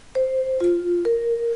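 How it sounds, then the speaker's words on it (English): Three mellow mallet notes on a vibraphone, each struck cleanly and left ringing with a soft, sustained shimmer, stepping down then back up. "That's our vibraphone sound."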